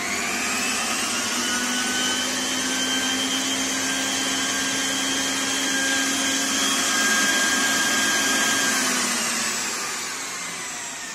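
A powerful homemade robot vacuum cleaner runs with a steady, loud motor whine and airflow hiss, holding constant before tapering slightly near the end, with no talk.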